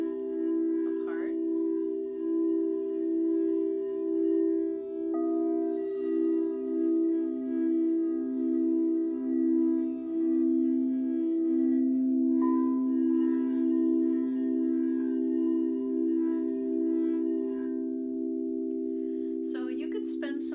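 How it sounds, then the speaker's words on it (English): Crystal singing bowls struck in pairs ring out together as pure, sustained overlapping tones that pulse and beat against each other, soft and steady, with a few faint strikes of the bowls. "going back and forth from those two bowls to the center bowl, playing two at a time, allowing the sound to just, or the bowls to just sing"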